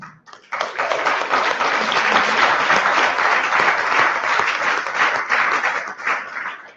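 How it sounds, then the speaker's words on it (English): A conference audience claps at a keynote, a dense burst of applause that swells quickly, holds steady for several seconds and then tapers off, with no talk over it. "you're all clapping"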